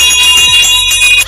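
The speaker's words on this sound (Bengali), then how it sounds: "ঘন্টার আওয়াজ শুনে সেখানে পাহারাদার চলে আসে।" A cartoon bell rings out clearly and sustained, a bright metallic tone with shimmering overtones, heard alone without any talking.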